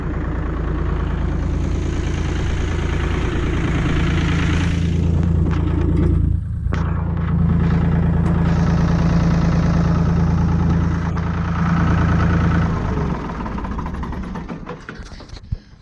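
A repaired Ford tractor engine idles with a steady, loud low rumble and throb, close by; it dips briefly midway, then carries on before easing off near the end.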